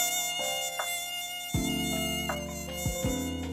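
Pitch-shifted Sound Ideas Series 1000 mosquito buzzing effect: a steady, close, whining insect drone with shifting pitch steps throughout, no talk.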